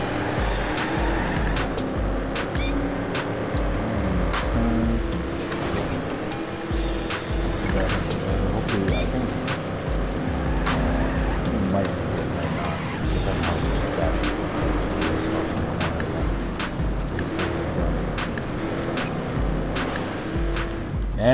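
A car engine in an arcade racing video game drones and revs steadily throughout, with shifting pitch and occasional tire noise under continuous game sound.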